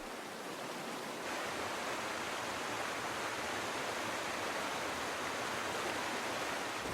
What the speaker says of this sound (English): The torrent charges through the narrow gorges of the ranges, eroding the land.